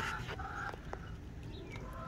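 Chickens cluck in short, scattered bursts outdoors, close by and fairly soft, over a steady background rumble.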